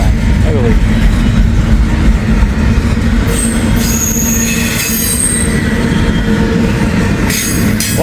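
A CSX freight train of mostly empty cars rolls past on old B&O and Pennsy lines. Loud continuous rumble, with shrill wheel squeals rising and falling over it.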